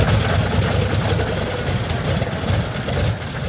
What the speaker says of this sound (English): Starting the 14-cylinder Pratt & Whitney radial engines is more art than science, and the sound they make when coming alive is pure nostalgia.